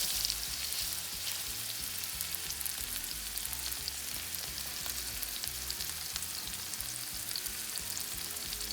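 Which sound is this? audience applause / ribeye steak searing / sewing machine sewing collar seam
ribeye steak searing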